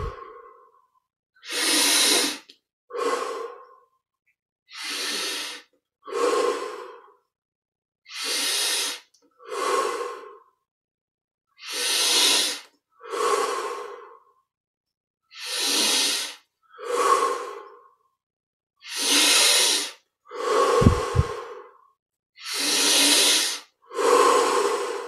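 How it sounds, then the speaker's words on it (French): Deep, slow breaths repeat in an even cycle, air drawn in through the nose and pushed out through the mouth, about a dozen loud, close inhale-exhale pairs separated by short silences during a yoga meditation. "Donc, inspire par le nez."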